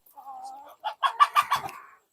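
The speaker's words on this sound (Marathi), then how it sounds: "सध्या या सगळ्या कोंबड्या माझ्या अंड्यावर आहेत तर तुम्हाला इथं दिसतातच" A desi country hen on a small poultry farm clucks nearby, a drawn-out note followed by a quick run of sharp, rhythmic clucks, clear and close with no other sounds.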